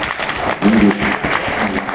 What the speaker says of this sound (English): A huge round of applause for him, please.